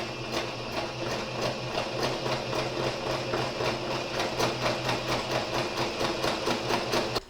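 A sewing machine runs steadily, stitching fabric for a fairy castle height chart, with a continuous mechanical hum and a fast, regular needle rhythm sounding close and even throughout.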